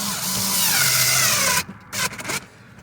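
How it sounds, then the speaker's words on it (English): Power drill driving a screw back in while reinstalling the cabin air filter cover on a second-generation Infiniti FX35, a close, loud whir for about a second and a half, then a few short stuttering bursts. "I'm going to go ahead and put this screw back in"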